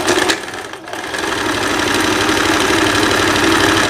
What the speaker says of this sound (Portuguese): Vou costurar já as laterais da blusa.